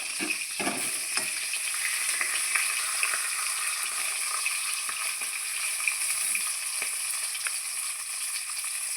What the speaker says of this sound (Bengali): আমার এই পিসটাও মাছ ভাজা হয়ে গেছে দেখুন আমি এখন মাছটাকে নামিয়ে নেব